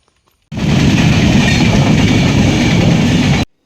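A train roars past nearby, its loud rumble starting abruptly and holding steady for about three seconds before cutting off.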